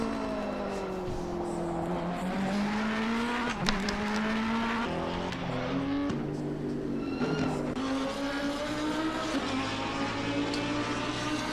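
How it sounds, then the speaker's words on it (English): Race cars compete on the Bathurst circuit in a sim racing sprint, with several engines whining and shifting pitch as they rise and fall, a continuous layered roar at moderate distance. "These two are fighting for P13, and Wilkins lets Cogan go by."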